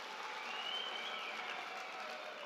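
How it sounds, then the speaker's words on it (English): A graduation ceremony audience applauds together, a dense, steady wash of clapping from a large crowd that holds at an even, fairly distant level throughout. "Can we give them a round of applause"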